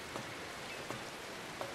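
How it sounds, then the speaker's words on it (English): Rain in the video game No One Lives Under The Lighthouse: a faint, steady hiss of rainfall with a few soft, distant thuds at regular intervals and no voices. "Raining, light's still good."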